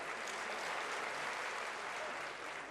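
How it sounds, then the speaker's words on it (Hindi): Crowd at an outdoor village rally applauding continuously, a thick wash of many hands clapping at steady volume from start to end, with no voice on top. "मीडिया के लिए भी ताली बजाओ।"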